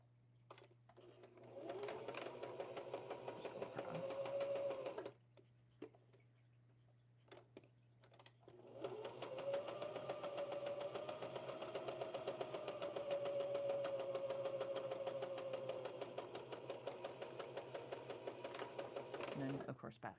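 A sewing machine stitches across the top of a doll's apron in two long runs of rapid, steady mechanical whirring and ticking, with a short pause between bursts, close and moderately loud.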